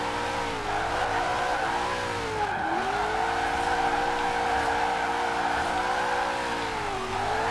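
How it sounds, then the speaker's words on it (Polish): Formula Drift cars in Forza Horizon 4 squeal their tires in a continuous drift, a loud, sustained wavering screech over a growling engine with no break. "każdy z tych samochodów pali kapcie jak szalony"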